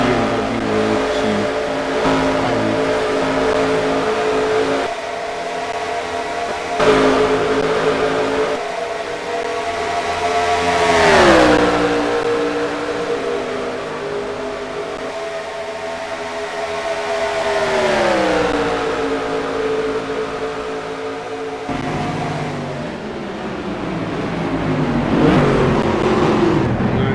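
Race cars in a video game GT race on a Paris circuit, engines whining up and down through gears as they accelerate and pass, loud and continuous with no voices.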